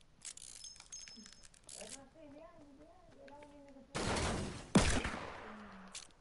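Video game gunfire in Fortnite, two loud sharp bursts in quick succession after a stretch of quieter game sounds and a voice talking.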